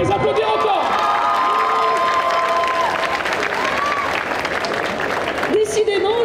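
A crowd applauds cosplayers, a brother and sister, at a costume parade during a geek festival in Angers: loud continuous clapping with some cheering, while a voice talks over it at times.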